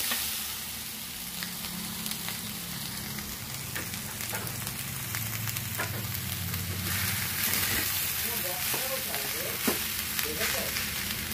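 Fried egg being stirred into a dish in a home kitchen pan, giving a steady close sizzle with scraping stir strokes, and no talk over it.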